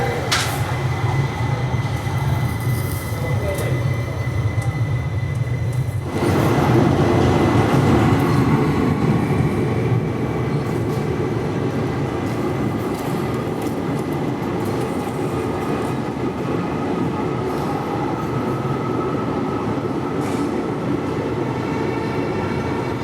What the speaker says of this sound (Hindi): अभी हमारी ट्रेन क्रॉस कर रही है पूर्णा रिवर को